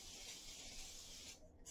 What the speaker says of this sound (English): Spray it around so it hits all the sides and the bottom